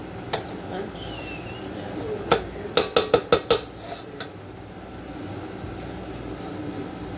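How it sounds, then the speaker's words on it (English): A utensil scrapes cooked food off a pan in a quick burst of five or six sharp rhythmic strokes, preceded by a couple of isolated clinks, with quiet kitchen background around them. "Just gonna wanna scrape things off so you don't waste as much."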